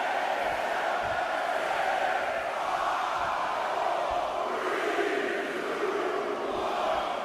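Crowd noise in the WWE 2K20 wrestling video game, a steady rolling roar of cheering with faint rhythmic thumps underneath and no voices talking.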